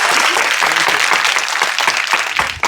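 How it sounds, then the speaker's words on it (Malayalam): A cinema audience in Kerala claps loudly at a film team's surprise theatre visit. The dense applause fills the room and carries on without a break, with a few voices mixed in. "എല്ലാവരും ഒരു ക്ലാപ്പ് ചെയ്താൽ അത്ര സന്തോഷം."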